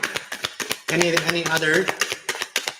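A deck of tarot cards is shuffled by hand with quick, crisp riffling clicks at the start and end, and a voice briefly speaks between the bursts.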